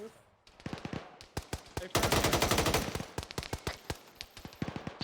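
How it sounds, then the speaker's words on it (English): Loud bursts of .50 cal machine gun fire during a military field training exercise, with sharp rapid reports in a quick rhythmic string and a brief voice calling out. "Taking fire from a mountain 50 cal"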